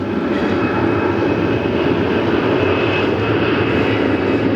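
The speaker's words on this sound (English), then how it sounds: "That aircraft has no issues getting up and climbing" A FedEx Airbus A300-600 heavy jet takes off from Memphis and climbs, producing a loud, continuous, broadband engine roar that stays strong and steady throughout, with no talking.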